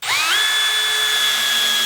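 Cordless drill driving a screw with the clutch slipping at torque setting 2, one steady high whine starting abruptly and holding loud and close, no voices.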